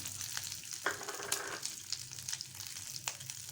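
Curry leaves and a small piece of ginger crackle and sizzle in hot oil as a tempering for curd rice, a steady close hiss with a few sharper pops.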